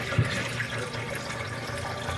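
Dirty water pours and splashes in a steady, moderately quiet wash lasting a couple of seconds, with no voices over it.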